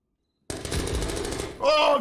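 Rapid automatic gunfire from an esports match of the shooter game Zero Hour, a dense burst of shots lasting over a second, then a brighter, tonal clatter at the end.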